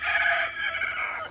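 A chicken in a hen house gives a single loud, drawn-out crowing call lasting about a second, close and alone with no other sounds around it.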